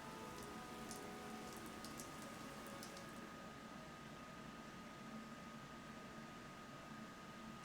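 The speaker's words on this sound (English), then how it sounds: "This rain threatens a coming storm." Steady, soft rain falls in the Fire Emblem Three Houses video game, a continuous quiet hiss with a few faint patters near the start and no talking.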